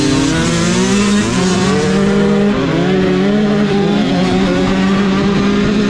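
A motorcycle engine running steadily while riding, loud and near, with a droning pitch that shifts slightly as the bike moves.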